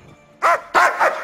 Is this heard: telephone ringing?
no